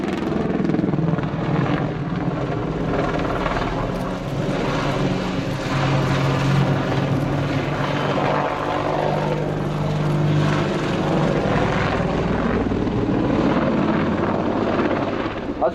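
A Westland WAH-64D Longbow Apache AH1 attack helicopter's loud, steady rotor thrum and engine roar continue without a break during a flying display, close and powerful throughout.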